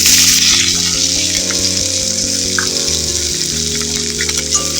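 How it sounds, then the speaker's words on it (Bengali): Chopped onion dropped into hot oil with black mustard seeds for an okra curry, frying with a loud, close, continuous sizzle and splattering hiss throughout. "পেঁয়াজটা ভেজে নেবো"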